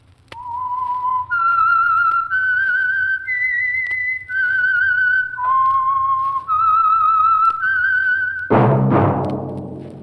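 Whistled theme signal of The Whistler radio program, a solo human whistle carrying a slow, eerie melody of sustained notes stepping up and down, closed by a sudden loud orchestral chord.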